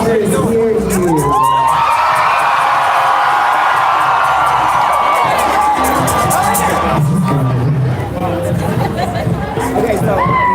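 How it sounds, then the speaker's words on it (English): A large crowd at an outdoor climate strike rally in Denver, Colorado, screaming, whooping and cheering loudly and continuously, with dense chatter and shouts throughout and a slight dip in intensity toward the end. "let me hear you scream"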